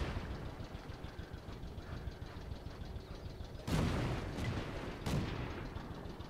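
Tank cannon fire in World of Tanks: two heavy booming shots about a second apart, the first louder, over a constant low rumbling engine bed.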